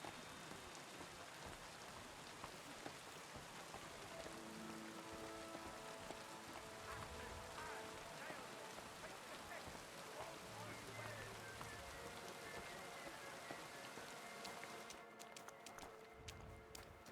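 Steady rain pours in the medieval role-playing game Kingdom Come: Deliverance II, a dense, continuous hiss that runs throughout under soft game music.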